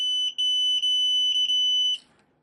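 A FNIRSI 2C53P portable multimeter gives a series of loud, clean electronic beeps during a continuity test: several short chirps, then one sustained tone lasting over a second before it cuts off.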